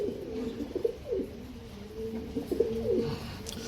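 Several young Ambarsary pigeons, a mix of new-season birds including females, coo in soft repeated rolling phrases, overlapping and close by over a low background hum.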